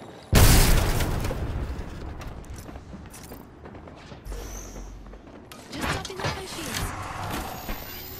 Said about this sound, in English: I'm gonna get this grenade down.